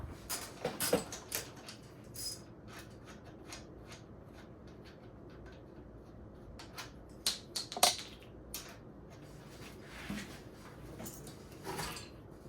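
A 17mm wrench works loose the two top shock bolts on a Kawasaki KE175 motorcycle: quiet, scattered metallic clicks and clinks, with a few sharper taps near the middle and no talking.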